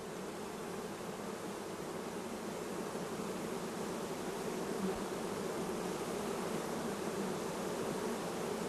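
Honey bees buzz around a nucleus hive in a dense, unbroken drone that stays even and fairly close throughout.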